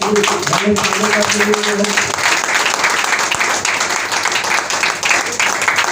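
Loud applause fills a hall, many people clapping hard and continuously from start to end, with a low voice or tone briefly audible underneath in the first two seconds.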